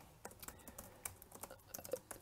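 Quick, uneven clacking of keys on a computer keyboard during a hacking walkthrough, faint and close, a run of separate taps with short pauses and no talking.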